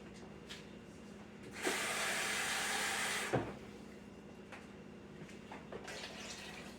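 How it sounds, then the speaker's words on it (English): Water poured into a pot of chicken, mushroom and wild rice soup, a steady splashing pour lasting under two seconds amid quiet kitchen handling noises and small knocks. "So we're going to need just about 1 more cup of water."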